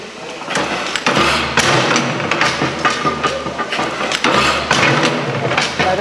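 A running 1867 Langen-Otto atmospheric combustion engine, its speed regulated by a ball valve on the exhaust pipe, pounds and clatters loudly in heavy repeating thumps with rattling mechanical noise, up close and alone.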